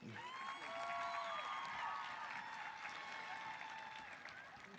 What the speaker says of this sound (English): One more nice applause for Juan